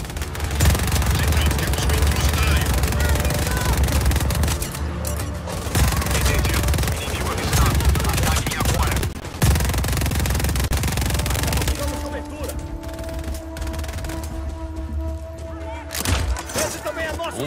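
Gunfire in the video game Just Cause 4, dense rapid bursts and heavy thumps almost without pause, mixed with game voices and effects, easing into sparser shots near the end.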